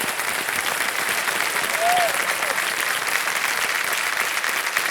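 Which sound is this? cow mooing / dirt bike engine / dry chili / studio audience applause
studio audience applause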